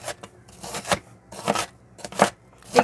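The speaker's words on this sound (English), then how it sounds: "This is just the quickest way I have found over the years to chop up an onion." A knife chops an onion on a board for chili beans, giving uneven bursts of crisp, close cutting strokes with short pauses between them.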